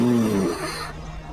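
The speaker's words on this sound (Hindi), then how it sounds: "तभी उनको किसी के सांस लेने की आवाज सुनाई दी" A heavy breathing sound effect in a Hindi horror story about a headless ghost: a loud, rasping low inhale-like rush for about half a second, then fading into quieter breathy texture, heard alone.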